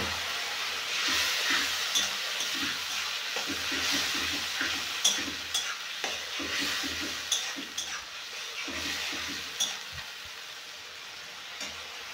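Spice masala with ground tomato fries in hot oil in a pan, a steady close sizzle and hiss with occasional soft clicks of stirring, no voices.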